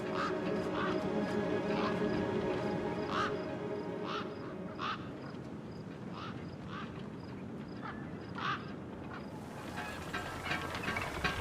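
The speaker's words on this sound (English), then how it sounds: "Then, I heard them. Gang birds, scavengers" Scavenger gang birds caw and squawk in the video game Beyond a Steel Sky, with repeated harsh calls over a dense ambient wasteland soundscape, at moderate distance.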